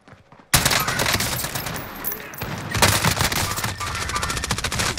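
Gunfire in Call of Duty Warzone on Rebirth Island: loud, dense automatic bursts and rapid shots erupt after a brief quiet start and continue almost without pause.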